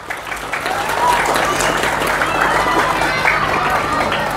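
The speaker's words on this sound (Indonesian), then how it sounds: "Maka tepuk tangan untuk pondok pesantren semuanya." Crowd applause in an Indonesian religious lecture hall, broad and sustained with a murmur of voices and cheering mixed in, fairly loud throughout.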